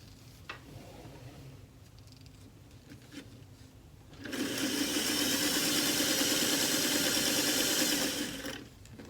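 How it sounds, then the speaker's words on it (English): A home sewing machine named Hope stitches over a vinyl cording seam: quiet handling for about four seconds, then a loud, steady mechanical whirr of fast stitching runs near and continuous for roughly four seconds before stopping. "my machine, this is Hope, she shouldn't complain too much about going over this seam"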